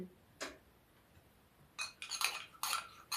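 A spoon or whisk stirs flour with baking powder and starch in a bowl, giving scattered light clinks and scrapes, first a single tap, then a quick cluster of close metallic ticks against the bowl.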